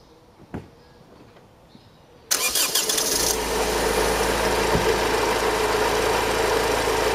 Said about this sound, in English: So let's turn the engine on.